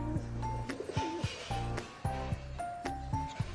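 A fancy crested pigeon coos in repeated low rolling phrases, close and steady, with a few sharp higher notes and clicks between the calls.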